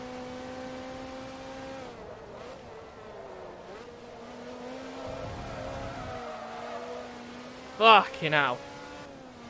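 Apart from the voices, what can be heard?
Ferrari race car driving in Forza Motorsport 2 video game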